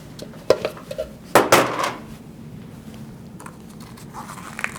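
A measuring cup scoops whole wheat flour for bagels, giving a few close clinks and knocks against a bowl, then a louder scraping clatter, followed by quiet.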